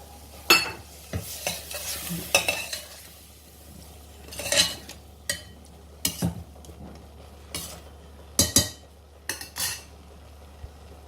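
Chickpeas stirred in a pan, with scraping and clinking of a spoon against metal in irregular bursts over a low, steady sizzle.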